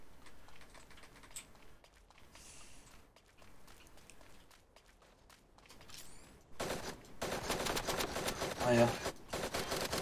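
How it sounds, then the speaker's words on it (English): Gunfire in a video game match, with a burst of rapid shots landing close and loud near the end after quieter scattered sounds, while a player reacts with a brief exclamation. "I'm getting sniped from somewhere and I've no idea where"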